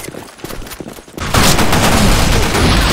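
Dense, loud burst of automatic gunfire in a first-person shooter match on the Lost Temple map, starting abruptly after quieter clatter and continuing as a sustained close barrage to the end.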